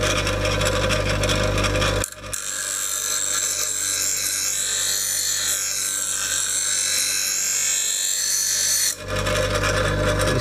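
An angle grinder sharpens a steel lawnmower blade in a workshop, sparks flying, giving a steady loud whirring grind that runs for several seconds with brief breaks at the start and end.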